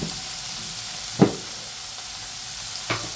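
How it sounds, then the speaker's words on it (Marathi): Paneer fries in oil over a low flame until it browns. A constant close sizzle carries on without a break, with two soft knocks from the pan. "तेलात ते चांगले फ्राय करून घ्यायचे, ब्राउनिश कलर येऊपर्यंत तेलात फ्राय करायचे।"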